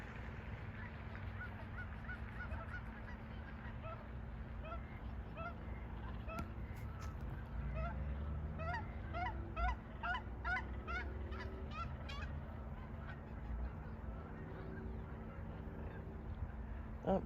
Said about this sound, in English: Oh, here comes some more swans.